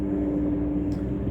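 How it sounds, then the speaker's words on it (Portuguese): A helicopter passes low over an apartment building, giving a steady, loud droning rumble throughout with no talk over it. "tem um helicóptero passando aqui que eu vou ter que esperar ele passar, porque ele passa muito baixo aqui em cima do meu apartamento."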